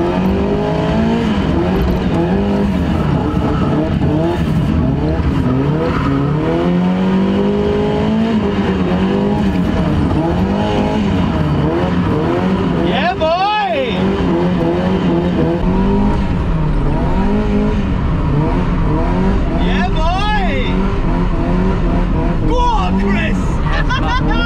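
A Mazda MX5 drifts at Santa Pod Raceway, its engine revving and tires squealing in rising and falling sweeps, loud and close throughout with talk over it.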